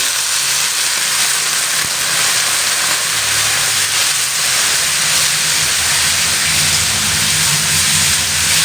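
Steady loud sizzling hiss of water splashed into a hot pan of chopped ginger and spices while cooking spinach, continuous throughout with no talking.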